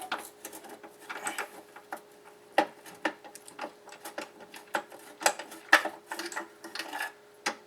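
A ratchet turning a greased Torx bolt into a Dodge Grand Caravan door during a power window regulator replacement, with quick irregular clicking bursts and metallic ticks, close and alone.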